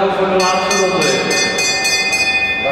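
A last-lap bell rings in rapid repeated strokes at a junior international track cycling sprint in the Apeldoorn velodrome, loud over a steady crowd hum.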